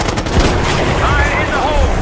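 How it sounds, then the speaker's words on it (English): Bursts of rapid automatic gunfire crackle in the shooter video game Call of Duty: Black Ops 6, dense and loud against a busy battle backdrop with other combat noise. "God damn, we're taking fire!"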